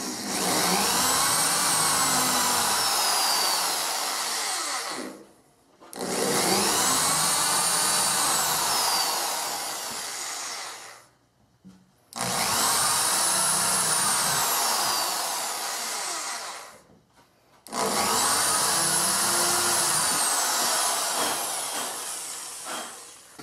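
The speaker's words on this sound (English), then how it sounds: "I'm using a power drill to drill the holes" A cordless power drill bores pocket holes in wood held in a Kreg K4 jig, giving four loud, whining bursts of about five seconds each, separated by short pauses.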